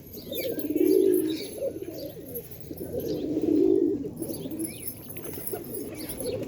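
Pigeons coo softly in two low, rolling bursts, with faint chirps and light rustling around them.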